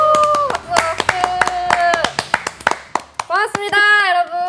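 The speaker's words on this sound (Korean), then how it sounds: "박수 박수." Several people clap in a studio, a burst of sharp, uneven claps over upbeat music and tonal voices, fairly loud and close.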